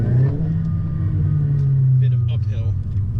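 A DC Integra pulls hard uphill from 35 to 80, its engine a loud, steady rumbling drone throughout, heard close from inside the car.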